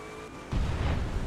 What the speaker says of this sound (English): I was so close to that explosion.